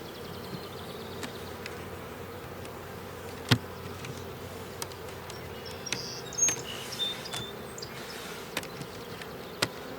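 Honey bees fly around a hive in early July, a faint steady hum with occasional individual bees buzzing close past, punctuated by a few soft clicks.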